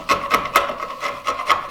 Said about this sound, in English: if your chisel's good and sharp, you can just kind of clean that out real easy